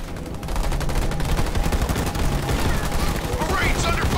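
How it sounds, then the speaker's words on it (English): Dense automatic gunfire rattles without pause in the sci-fi strategy game Halo Wars 2 as marines come under fire from enemy ground troops, with sharper pops and a rising tone near the end. "Marines under fire from enemy ground troops."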